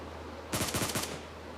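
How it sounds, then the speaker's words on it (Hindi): Gunfire in the video game PUBG, a short burst of about five rapid automatic shots, moderately loud, with no talk. "ऐस लगता है हमारे दोस्त के पास फायरिंग हो रही है"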